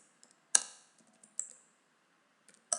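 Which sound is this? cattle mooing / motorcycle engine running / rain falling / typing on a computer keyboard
typing on a computer keyboard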